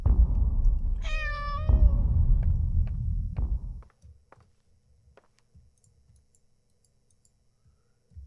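A cat gives one clear, drawn-out meow inside the horror game Layers of Fear: Inheritance, loud over a low rumbling drone, followed by quiet ticking and faint clicks.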